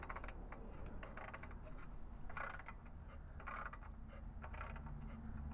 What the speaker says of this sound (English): And then you tighten up that screw